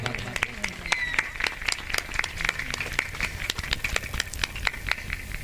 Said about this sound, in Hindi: तालियों से स्वागत हो जाए भाई।